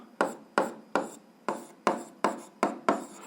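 A pen or pencil writing out a math solution on paper, with eight evenly spaced, crisp scratching strokes in a steady rhythm, close and clear with no talking.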